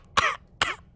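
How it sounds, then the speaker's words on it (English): Two sharp, close coughs, one after the other with a short gap between them. "Twilight coughed."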